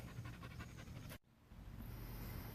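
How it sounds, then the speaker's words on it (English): A deaf dog pants rapidly and steadily outdoors, close and clear, breaking off briefly before resuming. "I've got a deaf dog out here."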